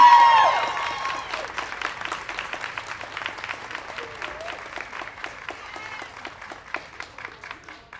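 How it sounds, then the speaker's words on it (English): Audience at a community event claps for Chloe, starting as a brief burst and thinning into scattered, fading individual claps with a tone heard at the very start. "Everybody, please, a round of applause for Chloe"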